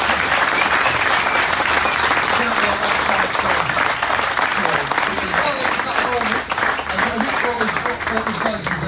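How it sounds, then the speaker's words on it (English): An audience at a racing team driver Q&A breaks into loud, sustained applause, dense clapping that fills the whole stretch with crowd noise. "So I think that deserves a big round of applause from you, Dr. Beast."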